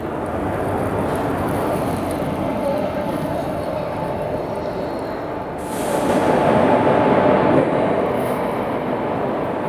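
An Indian Railways Chennai Central–Mumbai superfast express arrives at platform 6 with a steady, broadband rumble and hiss that swells louder midway, heard from close by on the platform without talk.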